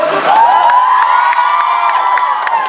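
A loud crowd at a contestant vote in Rayong, Thailand, screams and cheers in one sustained high-pitched roar, with sharp claps or bangs popping through it.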